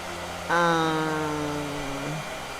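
A blow dryer used while painting switches on with a steady, buzzy motor whine that sags slightly in pitch, runs for over a second, then cuts off. No one talks.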